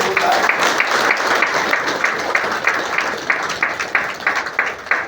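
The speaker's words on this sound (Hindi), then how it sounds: "हम लोग ताली बजा के" Audience clapping at a Krishi Vigyan Kendra gathering in Gumla, Jharkhand, a dense steady patter of many hands with a quickening rhythm, continuous and fairly loud.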